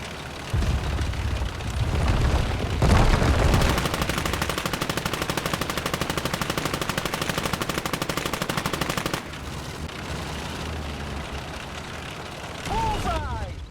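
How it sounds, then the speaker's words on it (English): Machine gun fire in the WWII video game Gates of Hell, a loud sustained burst of rapid, evenly spaced shots lasting several seconds, framed by heavier booms before and after. "Another machine gun burst."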